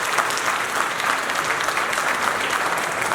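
Wedding guests at an official marriage ceremony clap together in a dense, even burst of applause that fills the room at close range.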